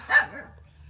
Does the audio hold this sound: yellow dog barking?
yes